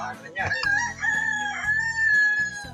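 A rooster crows loudly and close by, a long drawn-out call with a few clucks and other fowl noises around it.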